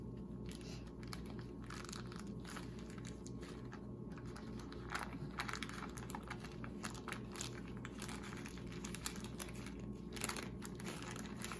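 Parchment paper is wrapped around a block of Arabian saleb ice cream, producing a continuous faint crinkling and rustling with scattered small crackles over a low background hum.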